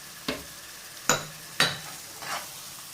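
Ginger, garlic and green chili paste frying in a pan for a kala chana masala, heard as faint sizzling with four separate scraping stirs spaced about a second apart, close and quiet.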